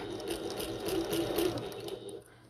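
A sewing machine stitches a bucket tote in a steady close whir for about two seconds, then slows and drops away near the end.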